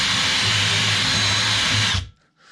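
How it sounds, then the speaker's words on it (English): A wire brush spun by a power drill scrubs white deposits out of holes in an old waverunner engine, giving a loud, continuous close-up whirring grind for about two seconds before it cuts off abruptly into near silence. "So any kind of a wire brush on a drill probably work really great for getting this white junk off."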